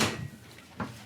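A GE Profile self-cleaning oven door is lined up on its hinges, pushed in and closed, making two soft metallic clunks about a second apart at close range.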